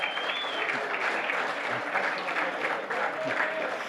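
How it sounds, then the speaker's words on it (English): An audience applauds at a speaking event, a dense and steady wash of many hands clapping that stays loud and even from start to finish, with no voices. "let's give him applause"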